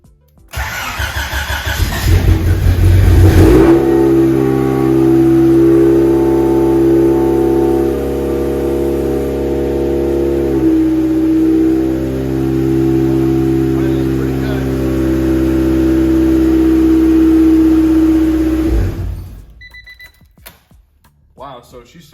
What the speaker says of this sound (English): Wow, so she started, guys, and that was idling pretty good.